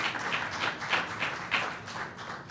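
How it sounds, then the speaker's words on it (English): Town hall audience with Senator Cruz in South Texas claps, a moderately distant burst of applause with rhythmic clapping pulses, fairly soft throughout. "You can clap for that."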